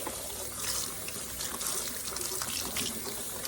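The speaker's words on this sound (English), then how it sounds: "I just take them and just wash them like this, right? Wash them off good." Collard greens are rinsed by hand under a running kitchen tap, a steady close splashing and trickling of water over the leaves, faint and continuous with no talk.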